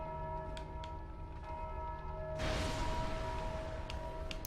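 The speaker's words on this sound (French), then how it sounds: "J'avais pas vu la cloche!" A bell rings in the Dark Souls 2 video game, a sustained metallic tone with sharp strikes that swells suddenly into a louder, dense clamor partway through.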